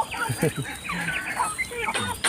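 Several hungry chickens clucking and squawking close by in busy, overlapping bursts, with faint farmyard background noise.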